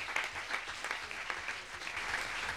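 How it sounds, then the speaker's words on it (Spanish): Faint, steady audience applause at an interdisciplinary journalism seminar, an even patter of many hands from across the room lasting a couple of seconds. "Ahora sí, el aplauso, ¿no?"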